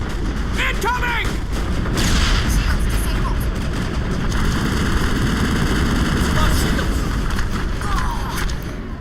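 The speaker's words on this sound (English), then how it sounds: "Someone's getting shot a lot there." A firefight in the video game Mass Effect 1: dense, continuous gunfire and booming blasts fill the whole stretch, with sharp weapon effects layered over a constant loud rumble of combat.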